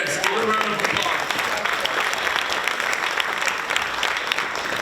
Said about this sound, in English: Everyone, yes, give her a round of applause.